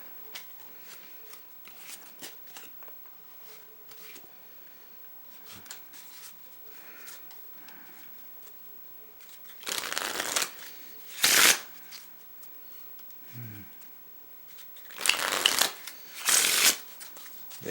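A Federal 52 Part 2 deck of thin-bordered playing cards being shuffled nearby, a few quiet riffles followed by several loud, quick bursts of cards snapping together.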